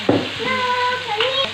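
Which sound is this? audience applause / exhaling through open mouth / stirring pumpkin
stirring pumpkin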